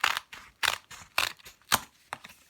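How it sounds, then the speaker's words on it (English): Scissors snipping through sketchbook paper pages, six or so sharp crunching cuts in an uneven rhythm, close and fairly quiet, with no talking. "So you might need some scissors to help you do this."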